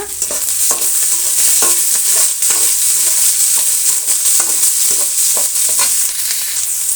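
Chopped onion and green chillies frying in hot oil for village-style chitranna, a loud continuous sizzle with repeated scraping stirs of a spatula in the pan throughout.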